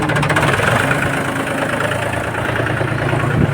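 A tractor engine idles steadily at close range, a loud continuous low rumble with a faint knocking pulse and no speech.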